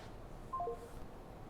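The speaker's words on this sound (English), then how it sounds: "sorry, a phone call" A telephone gives a short run of three quick dialing tones during a call, faint and brief over a quiet room background, with no talk.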